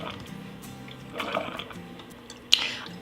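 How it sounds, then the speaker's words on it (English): A Gourmia Tea Square machine fills its top chamber with liquid, a soft watery trickle and gurgle close by, with small drips and a sharp click near the end. "So we can see now that the top chamber is filling up with liquid."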